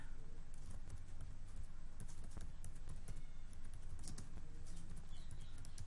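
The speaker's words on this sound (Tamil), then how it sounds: "இப்போ பார்த்தீங்கன்னா எங்களோட விலாசத்தை டைப் பண்ண போறேன்" Typing an address on a computer keyboard, a steady stream of quick, faint key taps over a constant low hum, with no talking.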